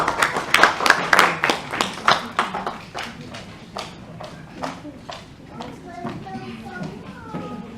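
A small indoor audience at an engineering institution's award event gives brief applause: a burst of dense clapping that thins to scattered individual claps and fades, with a voice speaking faintly near the end.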